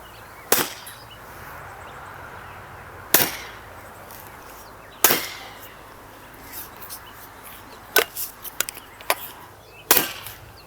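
Several sharp, short cracks from an Edgun Leshiy PCP air rifle ring out at irregular intervals over a quiet background, with a cluster of smaller safety clicks in between; each shot is quick and fairly subdued.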